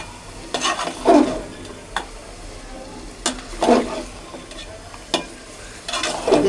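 Bottle gourd frying in a pan with a steady sizzle, broken by several bursts of scraping and clattering as a utensil stirs it against the pan at uneven intervals.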